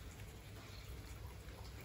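Rain falls outside a Georgian village house in January, a faint, steady wash of drops and patter that stays even throughout, with no voices.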